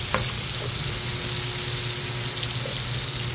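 Onions sautéing in a pan as the first step of a bitter melon dish with glass noodles and snow peas, a dense, steady close sizzle with a faint tap near the start, no talking.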